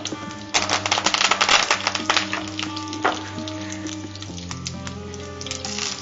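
Curry leaves and green chillies hit hot oil with a dense crackling sizzle, busiest at first and then settling into scattered pops, under a steady humming tone.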